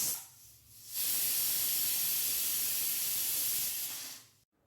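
A pressure cooker whistle releasing steam, a loud sustained hiss that starts abruptly, holds steady for about three seconds, then tapers off and cuts out.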